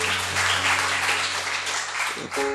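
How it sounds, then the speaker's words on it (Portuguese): A church congregation at a Sunday worship service applauds loudly and steadily, a thick crowd of clapping hands over a low sustained tonal hum, with a brief dip just before the end. "Vamos dar um aplauso para esse homem de Deus aqui."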